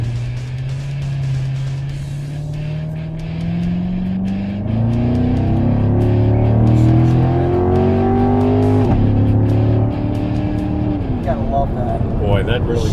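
A Corvette in sport mode accelerates hard from inside the cabin, engine note climbing through several gear shifts with brief drops between, loud and rising, with someone talking over it.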